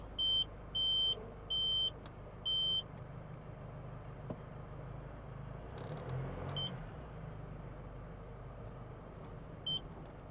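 SMC-built Jeep Wrangler 2.8 CRD in reverse, a quiet idling engine under a run of four evenly spaced electronic reversing beeps, followed by a soft rustle and a couple more single beeps.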